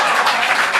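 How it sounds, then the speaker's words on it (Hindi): Audience at a Hindi poetry recital breaking into applause, a dense, loud burst of many hands clapping together, brief and sustained without a break. "ये जो तालियां बज रही हैं टीआरडी के लिए"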